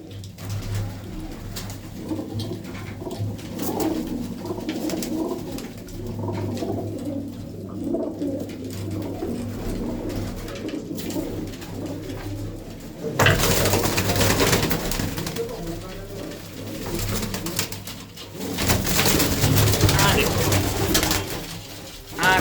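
Pigeons coo in low, repeated throaty calls near a loft, with someone talking over them throughout and louder noisy bursts in the second half.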